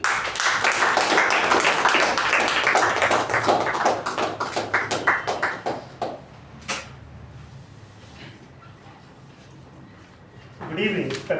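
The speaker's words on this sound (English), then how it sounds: "let's welcome with a thunderous round of applause to Toastmaster Sudeep" A Toastmasters meeting audience claps to welcome Toastmaster Sudeep to the lectern. The applause starts dense and steady, then thins into scattered claps over the first six seconds. A few isolated taps and knocks follow in a quieter room, then brief noise near the end.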